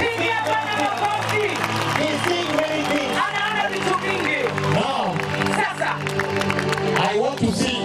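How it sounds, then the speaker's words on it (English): Congregation at a healing service in Kericho clapping and cheering: steady loud applause and crowd shouts mixed with music and voices, continuous throughout with a lively, enthusiastic feel. "Let us clap to the Lord."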